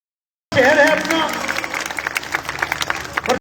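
An audience at an open-air poetry gathering on a Ramlila ground breaks into clapping that follows a shouted voice, the applause rising quickly and then continuing in scattered, uneven bursts.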